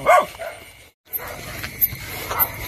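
A dog barks loudly and sharply several times nearby at night by a frog-catching spot, with a brief silent gap and then more scattered barks and yips, some fainter.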